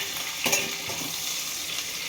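Chopped onion and three green chillies sizzling in hot oil in a pan, a steady bright hiss with a brief stirring clatter, close and alone.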